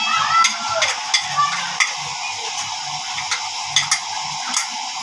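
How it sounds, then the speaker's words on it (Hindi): Butter sizzles in a cooking pan while a utensil stirs, a constant hiss with regular sharp clicks and scrapes close by. "ये मक्खन आधा ऐड करेंगे इसमें"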